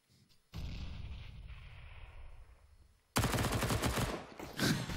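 Automatic fire from a UMP submachine gun in CS:GO on the Cache map during a pro match: two long, dense bursts of rapid shots, the second louder and harsher, with no talking.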